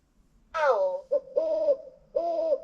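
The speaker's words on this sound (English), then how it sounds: "Owl." An electronic owl hoot plays from a LeapFrog 100 Animals talking book toy, three close, clear tonal hoots, the first sliding down in pitch and the next two steadier, loud and isolated against silence.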